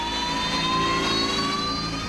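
A military jet's engine roars at close range during a ground run at an air base in Kandahar, a loud, steady whine with layered tones over a deep rumble, unbroken and with no voices.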